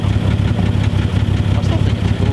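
A naturally aspirated car engine idles steadily with a low, even rumble and constant vibration, close and loud throughout.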